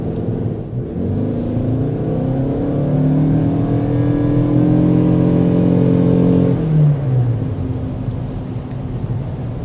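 A 2025 Toyota Crown Signia hybrid with an eCVT accelerates, its engine note rising steadily in a smooth continuous drone before easing off and settling back, loud and close with no talking.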